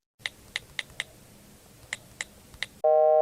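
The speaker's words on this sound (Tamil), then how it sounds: "எவ்வளவு நேரம் ரிங் போயிட்டு இருக்கேன்" A phone call's ringing tone comes in abruptly after a few light clicks, as a loud, steady electronic tone that holds through the last half-second.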